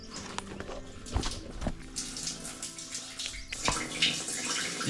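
Water runs into a storage tank at an old log cabin, a steady wash and splash with sharper knocks and spurts rising and falling throughout, fairly close.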